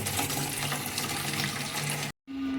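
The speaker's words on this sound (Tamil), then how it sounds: "இப்படி தான் வந்து தண்ணியே ஒழுகுது" Water runs steadily from a hose into a barrel, a continuous broadband rush that fills the clip, then breaks off briefly before resuming with a faint hum.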